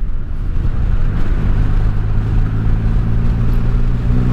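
A smooth, liquid-cooled motorcycle idles steadily, its loud, even low rumble holding constant from start to finish without revving or speech.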